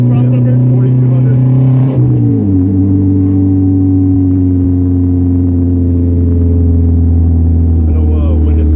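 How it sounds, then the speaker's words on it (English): A 2004 Honda Civic with a K24 engine revs loud and steady close by, its pitch dropping and then holding through the VTEC crossover range around 4200 RPM. The drone runs unbroken throughout, and a voice speaks over it. "Is that the crossover? That VTEC crossover?"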